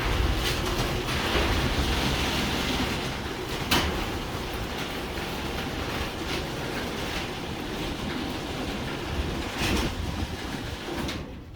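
A worn garage door rolls upward on its opener during a spring conversion job, giving a steady, loud mechanical rumble with rattling and a few sharp clanks, no voices.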